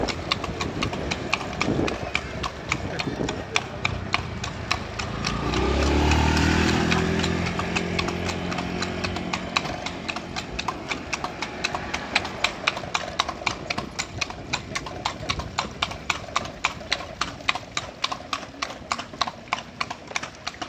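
Steady, rhythmic clip-clop of a horse's hooves on pavement as it pulls a carriage continues throughout, with a vehicle engine swelling and fading in the middle.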